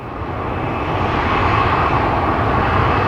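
Airplane engines roar loudly and steadily during an aborted takeoff, a continuous broad drone that swells slightly and holds without any talk.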